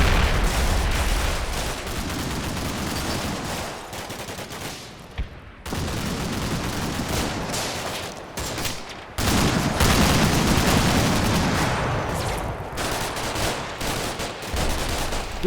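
In the Combat Mission: Black Sea game, a BTR armored vehicle fires suppressing bursts at a former sniper position, with rapid automatic gunfire rattling in dense volleys, broken by short pauses, loud and continuous.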